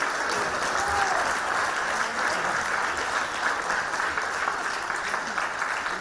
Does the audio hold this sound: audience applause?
yes